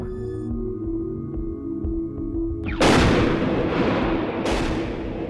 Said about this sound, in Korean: 철조망 약 1m 위에서 폭발했습니다.